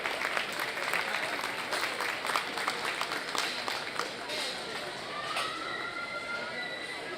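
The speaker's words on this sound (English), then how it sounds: "Let's give these exhibitors a nice round of applause." Audience applause for exhibitors at a junior market barrow livestock show, steady clapping from a crowd through the whole stretch, moderately loud and somewhat distant in a large arena, with voices murmuring underneath.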